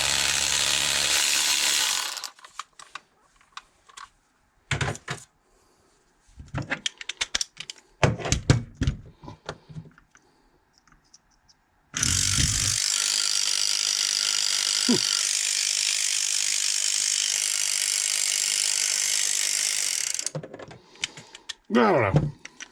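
A vintage Skil 2238 battery ratchet brought back to working order, sounding in bursts of clicking and handling noise, then one long sustained whirring run of several seconds, close up with brief pauses between.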